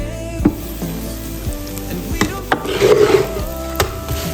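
Homemade flatbread fries on a preheated, oiled electric griddle, a steady close sizzle with occasional scraping and knocking as it is moved and turned, no talking.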